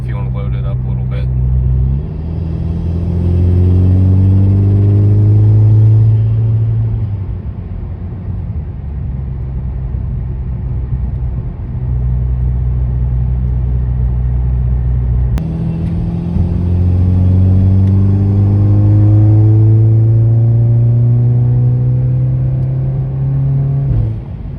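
A Volkswagen Golf R with a Baun Performance 4-inch downpipe and its exhaust valve closed, revving loudly up and down in two long sweeps. Deep droning rumble rises and falls, with a faint voice underneath.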